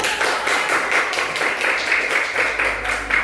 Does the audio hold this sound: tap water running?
no